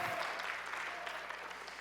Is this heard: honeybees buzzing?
no